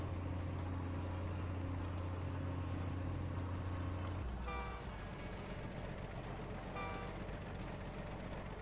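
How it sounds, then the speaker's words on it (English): A train in the Captain of Industry video game gives a steady low rumbling drone that cuts off midway, then continuous rolling rail noise with bursts of clatter. "I was waiting for a train to come out."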